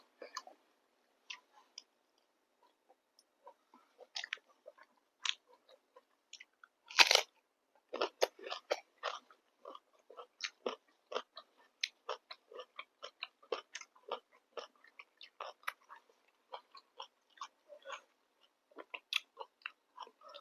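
Someone chews hot rice with omelette and warmed sour curry close to the mic, soft wet crunches and bites coming in an irregular steady rhythm with brief pauses.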